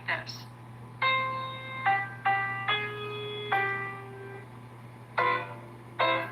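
The Shave and a Haircut tune is played on piano: a short run of distinct notes, a pause, then two final notes. Each tone decays cleanly over a faint steady hum, with no voices.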